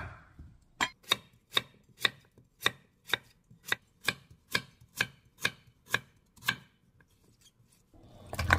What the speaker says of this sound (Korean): 무는 1cm 두께로 잘라줄게요